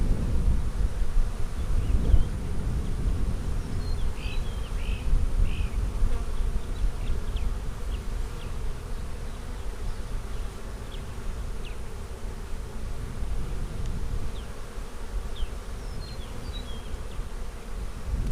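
Honey bees buzz continuously and densely around an open beehive during a springtime inspection, a close, steady swarm drone with individual bees zipping past the microphone, alone without talk.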